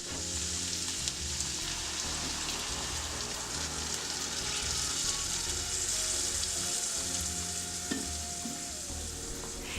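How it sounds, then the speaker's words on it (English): Wine hits a hot skillet holding browned sausage, sending up a steady, bubbling sizzle with low rumbling underneath and an occasional light scrape, close and continuous, no talking. "Now this is called deglazing the pan."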